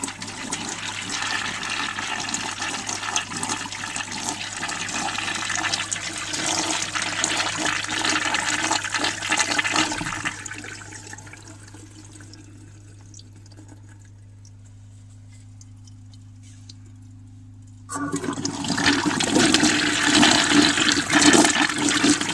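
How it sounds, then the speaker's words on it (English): A 1940 Standard Bering urinal is flushed. A loud rushing surge runs for about ten seconds, eases into a quieter hissing refill, then another strong rush of water starts near the end. "So let's have a flush."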